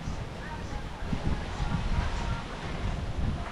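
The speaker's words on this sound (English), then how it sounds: "You can probably hear the wind." Typhoon Egay's wind gusts over a flooded area in a Philippine province, a steady roaring rush buffeting the microphone, loud and continuous throughout.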